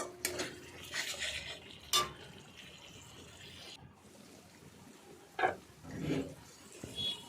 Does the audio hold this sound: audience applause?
no